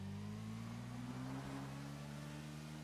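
A rough, droning tractor engine in a video game idles with steady low harmonic tones that drift slightly in pitch, quiet and continuous with no voices over it.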